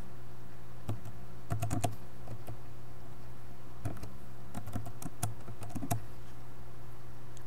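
Computer keyboard keys tapped in short clusters as a tracking number is entered, crisp close clicks separated by brief pauses over a low steady hum.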